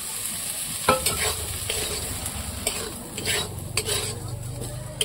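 Semolina (suji) being stirred and roasted in a pan, with a steady soft sizzle and repeated scraping strokes of a spoon against the metal, close and continuous with no talking.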